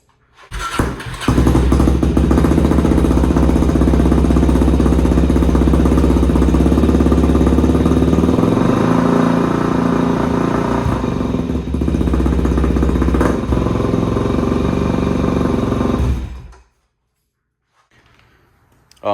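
A Suzuki DRZ400SM motorcycle, stone cold and freshly rejetted with a jet kit, fires up after a short crank and settles into a loud, steady single-cylinder idle for about fifteen seconds before cutting off, with no talk over it.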